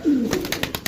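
Pigeons at a loft call with a soft, close coo that opens the short stretch. Several brief repeated pulses follow in a loose rhythm, and no voices are heard.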